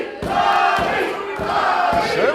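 Wrestling crowd in an indoor arena at an Impact Arena event, chanting loudly in rhythmic bursts about every second, a dense roar of many voices close and sustained throughout.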